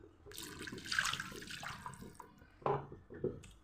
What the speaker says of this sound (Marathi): आता आपण पाणी टाकूया.